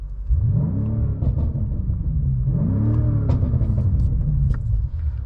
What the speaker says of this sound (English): what's an M5 video without some exhaust notes, right?